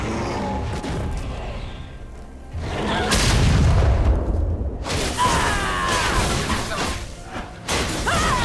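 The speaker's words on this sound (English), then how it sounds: "Blue team's turret has been destroyed." A turret being destroyed in League of Legends, heard as a loud booming crash with a whooshing burst, swelling midway and followed by further crackling impacts, with no talk.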